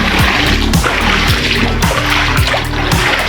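Feet or a vehicle splash rhythmically through flood water left by nonstop rain, a rapid run of close, loud sloshing splatters over a steady watery wash.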